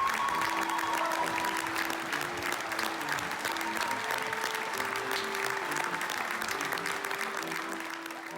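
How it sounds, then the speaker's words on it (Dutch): Sustained applause for a children's choir and soloists after a Brundibár opera premiere, dense steady clapping from the audience with a soft organ-like tone held underneath. "Een groot applaus voor ons koor en solisten."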